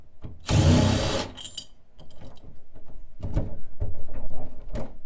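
Power drill backing screws out of door hardware, a loud close whir burst followed by lighter, uneven ratcheting and grinding motor pulses.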